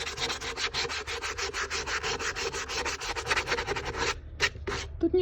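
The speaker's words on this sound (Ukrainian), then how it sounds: "Тепер все це наждачним папером отак ну от беру і зрівнюю, щоб було гладенько" Sandpaper rubs back and forth over an old wooden window frame in fast, steady strokes, close and loud, pausing briefly near the end before a few final scrapes.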